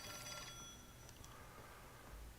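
Telephone ringing in the video game L.A. Noire, a repeated electronic bell tone that is loud and steady at first, then fades, with no talking.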